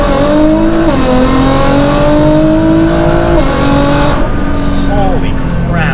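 A Nissan R35 GTR accelerates hard from inside the cabin, loud engine tone climbing through gear changes with brief dips between rising sweeps, a voice talking over it.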